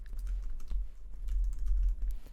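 Steady typing on a computer keyboard during Photoshop work, a run of close, quick key clicks over a low hum with no one speaking.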